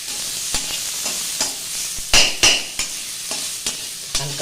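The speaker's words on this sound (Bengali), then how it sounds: "এবার পেঁয়াজটা দিয়ে দেবো।" Onions frying in a pan for a shrimp dish, a steady sizzle broken by repeated scraping stirs at an uneven rhythm, close and fairly loud, with no talking.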